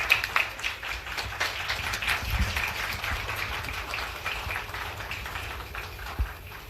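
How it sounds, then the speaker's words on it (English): Audience applause welcoming a lecturer to a talk on job creation, with a moderate spread of clapping from a room of listeners, some individual claps standing out close by and the sound holding fairly steady. "Please rise and welcome him with a round of applause."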